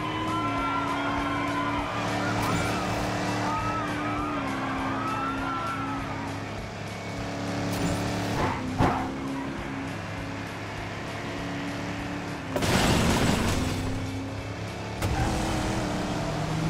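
Animated race cars roar past in a Cars cartoon race, engine drones and pitch-shifting whooshes layered over a busy music-and-crowd backdrop, with a loud rushing burst near the end.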